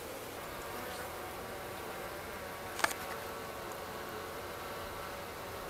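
Honey bees at an opened hive during an inspection, with frames of uncapped cells, make a steady, soft, diffuse buzz throughout, with one brief sharper click near the middle.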